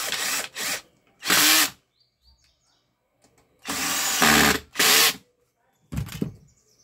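A power drill drives screws into an Arno Laveo fan in short bursts, several whirring pulses of a few seconds each separated by quiet pauses, close up and loud.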